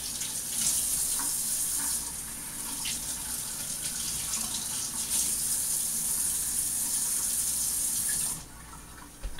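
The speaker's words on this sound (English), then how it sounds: "So I'm going to rinse these off. Baby bok choy." Tap water runs steadily over baby bok choy being rinsed, a continuous bright hiss that cuts off near the end, with no voices.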